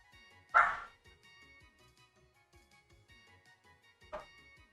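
Two barks from a dog in the distance, about three and a half seconds apart, the first louder than the second, with only faint background noise between them.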